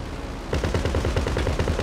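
A vehicle-mounted machine gun in Grand Theft Auto V fires a rapid, loud, close burst of evenly spaced shots that starts abruptly after a short pause and continues to the end, with no talking.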